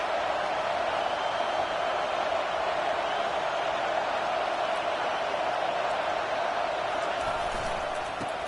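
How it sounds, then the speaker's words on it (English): Stadium crowd noise from a college football video game with Alabama playing, a steady, dense roar rising on a third-down defensive stand, continuous and loud throughout. "Decibels rising as the crowd gets behind this defense on 3rd down."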